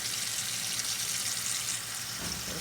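Cold water runs from a tap into a kitchen sink, a steady soft hiss and splash with no pauses, heard close and fairly quiet.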